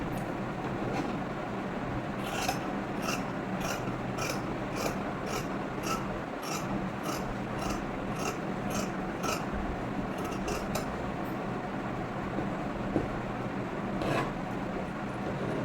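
Repeated crisp snipping of scissors cutting through fabric, in regular bursts over a soft background rustle, close up with no talking.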